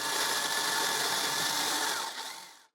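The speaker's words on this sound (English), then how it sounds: "I drill carefully" A power drill bores a hole in wood for a full mortise chest lock, running at a steady high pitch for a couple of seconds before winding down and stopping.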